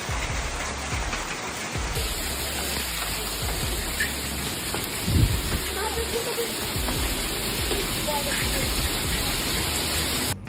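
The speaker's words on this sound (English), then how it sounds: "This hailstorm was recorded on May 8th in southeastern Kentucky." Large hail pounding down during a storm in southeastern Kentucky, a dense, steady roar of impacts that stays loud and continuous throughout, with a brief heavier burst partway through.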